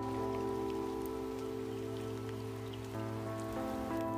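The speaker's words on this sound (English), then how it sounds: "It's raining" Steady rain falls outdoors on a riverbank during chub fishing, a continuous even patter with a constant low hum beneath it, no voices.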